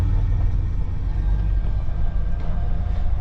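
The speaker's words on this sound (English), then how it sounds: "Ford is driving again" A Ford Explorer on a test drive after gearbox repair gives a heavy, continuous low rumble of engine and road noise, close and steady throughout with no voices.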